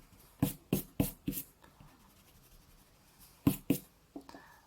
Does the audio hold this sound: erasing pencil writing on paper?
yes